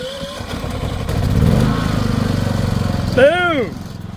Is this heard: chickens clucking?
no